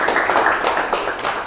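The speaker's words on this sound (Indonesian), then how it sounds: "Tepuk tangan anak-anak." Children in an Indonesian classroom clap their hands together in a quick, brief burst of irregular claps, close and fairly loud.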